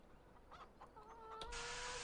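Chickens cluck in the Farming Simulator 17 video game, set on the Sosnovka map. Faint clucks come first, then a steady tonal call, and a loud broadband hiss takes over toward the end.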